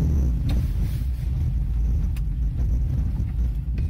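A tuned car with a two-step launch control idles loudly and roughly, its low rumble steady and close throughout, with some wind buffeting the microphone.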